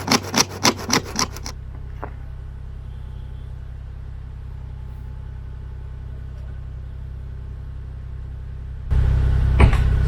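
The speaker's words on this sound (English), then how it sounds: "this is the kind of saw you have to use when all your tools are at your sister's for her home renos" Rasping strokes of a makeshift hand saw cutting, a few quick scrapes at first, then a long low engine rumble, likely a Kubota KX040-4 excavator idling nearby, with another burst of sawing near the end.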